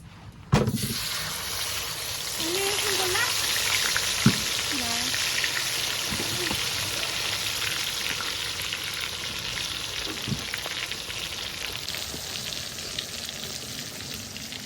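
A whole chicken is dropped into a hot kadai and bursts into a loud sizzle that holds steady and close for the whole stretch, with occasional stirring clanks and a voice talking over it.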